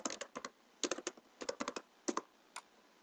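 Quick bursts of computer keyboard typing, soft close clicks in short clustered runs with brief gaps, no speech.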